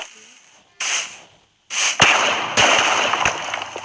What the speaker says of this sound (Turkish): Koyduğumuz anda patladı.